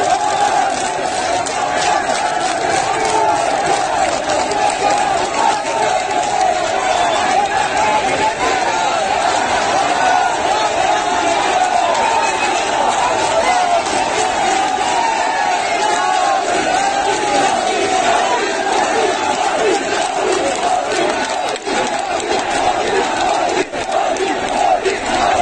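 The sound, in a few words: crowd marching and clapping in street in Ajmer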